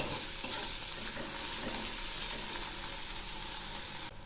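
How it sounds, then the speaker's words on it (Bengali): Chopped onions and black cumin frying in a pan, a steady close sizzle with light scraping of a utensil stirring, continuous and unvoiced until it cuts off. "আর দিচ্ছি 3টে ঝুরি করা পেঁয়াজ। এই পেঁয়াজগুলো একটু হালকা করে ভেজে নেব।"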